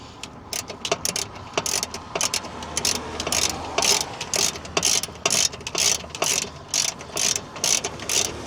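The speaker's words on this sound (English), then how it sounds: "So I won't do it too tight with the wrench, but I'll get it at least snug in there" Ratchet wrench snugging bolts on an American Clipper engine, a rapid series of close, loud metallic clicking bursts in a steady back-and-forth rhythm.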